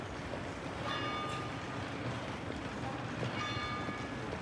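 A steady wash of ambience in a Prague train station, with a broad rumbling hum and faint ringing, bell-like tones that rise briefly twice, and no voices.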